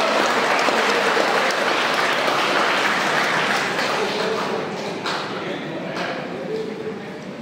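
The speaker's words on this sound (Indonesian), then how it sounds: "mari kita sama-sama memberikan tepukan yang paling gemuruh kepada pengantin baru kita pada hari ini" Thunderous applause for newlyweds at a church wedding fills the hall as a loud, continuous crowd clapping that eases slightly in volume toward the end.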